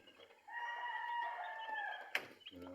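Broiler chicks chirp in a steady, high, close cheeping with a few sharper peeps near the end.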